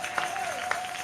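A congregation at a church service claps and cheers in acclaim of the Lord, a steady spread of applause under a sustained tone, with a few sharper claps standing out.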